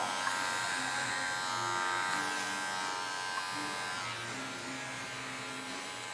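Electric hair clippers buzz steadily and close up while trimming a woman's one-length haircut, a continuous motor hum with slight shifts in tone as the blades move through hair.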